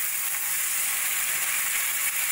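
Water from rinsing a mixer jar hits a hot, frying spice paste for katla fish curry, raising a steady, bright sizzle that hisses evenly and close throughout, with no voices.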